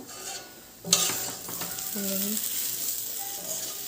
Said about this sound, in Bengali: আর একদিকে সুজি ভাজছি